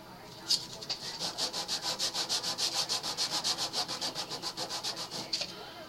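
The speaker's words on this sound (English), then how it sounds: "And now I sand it, holding it still in a bundle." A bundle of Estes Photon Probe rocket fins held together is sanded with steady back-and-forth strokes, about twenty rhythmic rasping rubs, close and moderately loud with no talking.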